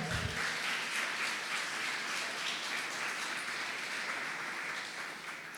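A church congregation applauds in steady, dense clapping that holds for several seconds, broad and continuous with no voices standing out.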